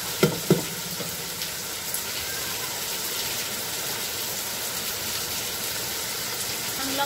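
Vegetables sautéing in a pan for pancit after water is added, a steady loud sizzle and hiss throughout with a couple of faint clinks near the start.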